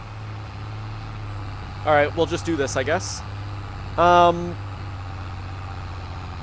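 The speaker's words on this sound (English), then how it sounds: "Is this a four-wheel drive tractor? I think this is a four-wheel drive tractor." A four-wheel drive tractor in a farming simulator game idles with a steady low engine drone throughout, while someone talks briefly over it.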